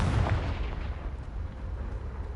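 Confringo fire spell blast in the video game Hogwarts Legacy, a deep rumbling boom that starts loud and decays into a low sustained roar over a couple of seconds.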